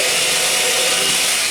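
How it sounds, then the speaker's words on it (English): Power drill boring a hole into bathroom wall tile, a loud, constant harsh grinding hiss that holds unbroken for the whole short stretch, with no talk. "just drilling the hole to make it easier."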